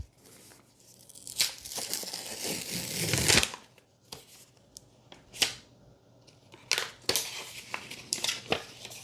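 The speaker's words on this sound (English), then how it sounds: "And now we will unwrap this device." Plastic film being torn and crinkled off a new Pixel 10 Pro phone in Moonstone color, with a long crackling rip and then several short, sharp crinkles and tugs at close range, without any talking.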